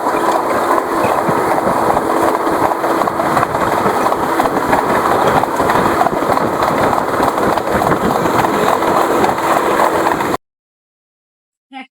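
An express train on the Dhaka to Cox's Bazar line runs through a junction without stopping: a loud, steady rolling rumble lasts about ten seconds, then cuts off abruptly.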